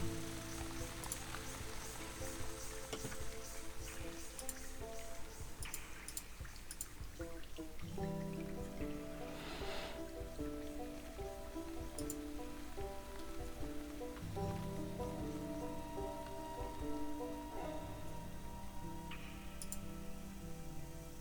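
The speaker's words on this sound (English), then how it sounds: "It's a good rain sound." Woodland rain ambience from a video game: a soft continuous patter of drops with ticking, dripping accents and low sustained background tones, steady and quiet throughout with no voices.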